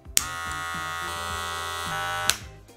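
Wahl Magic Clip cordless beard trimmer switched on and running, giving a close, steady tonal buzz that starts with a click and stops abruptly near the end.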